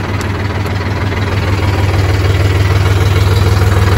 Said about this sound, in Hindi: दिगेश्वर ने ट्रैक्टर चला ली थी